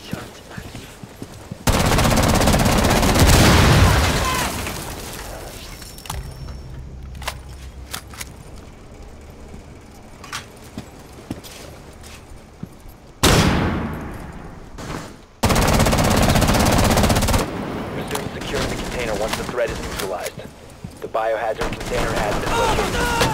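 Bursts of loud, rapid automatic gunfire from the video game Rainbow Six Siege on the Consulate map. Sharp volleys alternate with quieter gaps, and players talk over the action.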